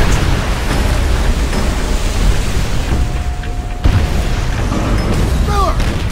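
Rocket strikes in Call of Duty: World at War land as heavy, continuous rumbling booms, loud and low under a steady battlefield roar, with a sharp fresh impact midway.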